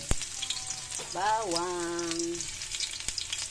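Garlic sizzles in a hot pan as the base for lomi soup, a steady close frying crackle with a sharp tap near the start, while a voice briefly rises over the sizzle.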